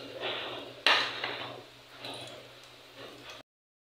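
A utensil stirs garlic frying in a pan for sotanghon, making scraping and clinking strokes with one sharp knock, over a steady low hum and sizzle, then cutting off abruptly.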